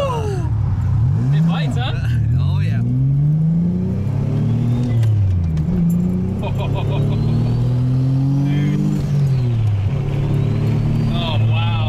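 A Nissan S14 240SX with a single-turbo VQ35HR engine swap drives by and revs, its loud exhaust note rising and falling through repeated throttle sweeps, with a turbo whistle and people's voices in the background.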